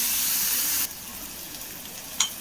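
Curry leaves and their stems dropped into hot oil give a loud, close hiss that cuts off sharply after under a second, leaving quiet background with a brief click.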